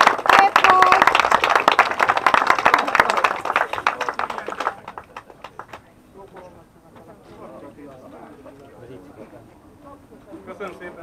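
Rally award ceremony audience clapping, dense applause for several seconds that fades into scattered claps and quieter crowd murmur.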